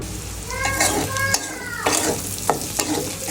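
Onion fries in a hot pan with a steady sizzle, broken by stirring scrapes and light clinks of a utensil against the pan.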